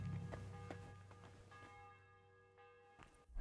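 A church bell tolls in the Kingdom Come: Deliverance II video game, several resonant strokes ringing out with long sustained hum between them, fairly quiet and heard alone.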